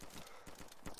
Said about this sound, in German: Schüsse? Ja, Schüsse.